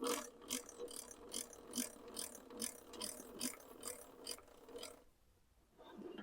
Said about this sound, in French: On va monter la lame au maximum.